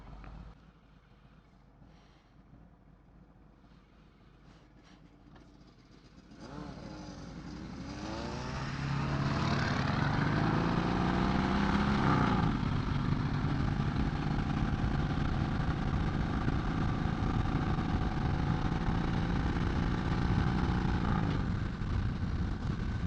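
Harley-Davidson Sport Glide motorcycle, tuned with an FP3 autotune, on a ride: the engine rises from a low idle-like rumble into a loud, steady cruising roar with wind, sweeping up through the gears and holding a strong drone.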